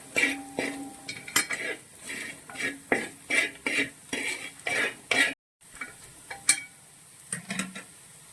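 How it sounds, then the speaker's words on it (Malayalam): A spoon scrapes and stirs masala as it roasts in a pan for fish pickle, with repeated close scraping strokes in a steady rhythm, a brief dropout, then more stirring. "നമ്മുടെ ഈ മസാല നന്നായിട്ട് മൂപ്പിക്കണം"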